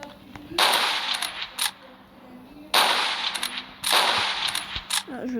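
Gunfire in the video game Dead Rails: three loud bursts of rapid sharp shots, each lasting about a second, separated by quieter gaps with small clinks and clicks.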